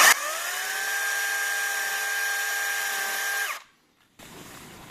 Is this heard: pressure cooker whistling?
no